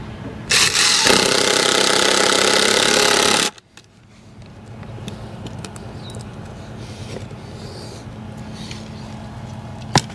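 Final screws driven into a sawdust bin floor, a loud sustained buzz from a power driver for about three seconds, then quieter rustling and handling noises.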